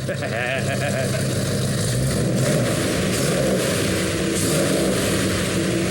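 A rebuilt custom hot rod engine running loud and close, a dense steady rumbling roar with a slight rise in revs, continuous throughout with no pauses.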